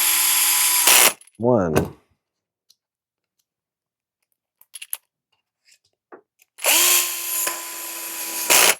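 Power drill driving screws into a Reve-D RDX RC car chassis: a sustained whirring burst, a brief pitch-sliding spin-down, scattered clicks during a lull, then another long steady burst, close and loud, with a short spoken word.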